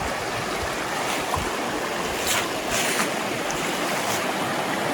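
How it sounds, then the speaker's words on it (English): Water rushes and burbles continuously in a broad, even hiss, like a nearby creek flowing steadily, with no voices; Hazel Creek near Fontana Lake. "But that's the creek."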